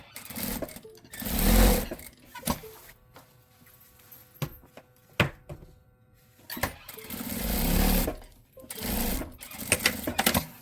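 Sewing machine stitching along blouse binding in two distinct runs of whirring motor and needle chatter, close and fairly loud, separated by quieter handling clicks and pauses.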